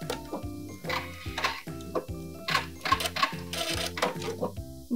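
A sewing machine backstitches the hem of a sweater, making a quick, rhythmic ticking and clacking stitch pattern that runs steadily and close for a few seconds.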